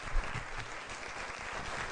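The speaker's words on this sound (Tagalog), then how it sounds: "More applause." An audience at a live Filipino talk show breaks into steady applause, a dense wash of many hands clapping at moderate distance, fairly soft and even throughout with no one speaking.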